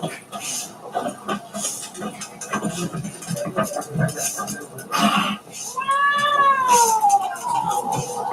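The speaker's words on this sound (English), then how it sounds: "Cat really does not like it." In The Witcher 3 tavern scene, a cat lets out a drawn, rising-and-falling meow near the end, loud and close, after a stretch of spoken dialogue with voices continuing around it.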